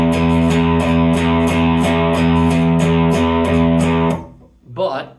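An electric guitar picks an even run of straight eighth notes in a steady, driving rhythm for about four seconds, then stops; a brief voice follows at the end.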